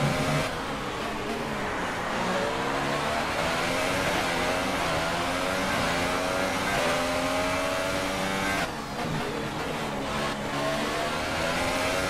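Formula 1 cars in the F1 2018 racing game, a Williams career race at the Singapore Grand Prix, roar off the start line together, loud engines rising and revving steadily for the whole stretch with a brief dip near the end.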